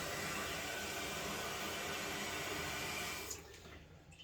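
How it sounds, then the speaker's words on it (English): A toilet tank refills after its fill valve is adjusted during a fill valve replacement, giving a steady hissing rush of water that cuts off abruptly near the end, leaving a quieter trickle. "So we'll lower the water and let it refill and see where it adjusts itself to."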